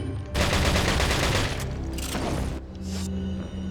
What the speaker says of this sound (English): He can't dodge shotgun shells. There's a lot of pellets coming out of this.